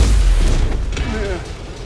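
A fire spell blast cast in Hogwarts Legacy, a loud booming burst at the start that rumbles and fades over a couple of seconds, with a brief tonal whoosh trailing near the end.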